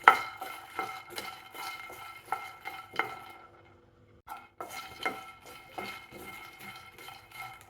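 Makhana lotus seeds roast over a low flame while a spoon stirs and scrapes a pan, giving irregular clinks and clatters with a short quiet gap partway through.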